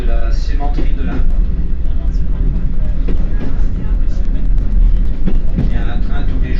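A train runs along a rail line, a loud continuous rumble with rhythmic clatter, while someone talks over it throughout.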